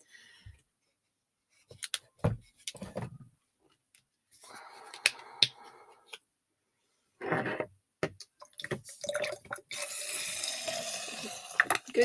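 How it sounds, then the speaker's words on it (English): Vinegar trickles into a jar in short runs of splashing liquid between handling clunks and quiet gaps, ending in a steadier, louder pour near the close. "Good time to visualize what you want when you're pouring in the vinegar."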